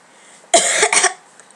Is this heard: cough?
yes